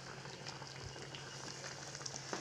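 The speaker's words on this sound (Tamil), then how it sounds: "நல்லா பருப்பு நல்லா கொதிச்சு வருதுங்க." Lentils (avarai paruppu) and water boil in a pot for sambar, giving a faint, steady bubbling hiss with small pops throughout.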